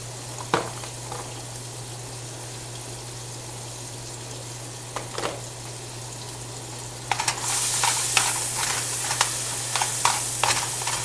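Seasoned ground beef with salt and pepper browning in a frying pan, a steady low sizzle with occasional clicks and scrapes, growing brighter and busier near the end, close with no talk.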